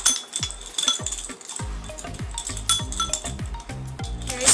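Dry rub ingredients being stirred together in a bowl for a beef pot roast, giving repeated clinking and scraping knocks of utensil against the bowl in an uneven rhythm, close and moderately loud with no talking.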